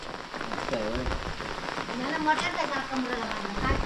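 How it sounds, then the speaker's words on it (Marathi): Light rain patters steadily on a surface, soft and continuous, with faint voices and background noise mixed in. "पाऊस बारीक बारीक आज चालू आहे"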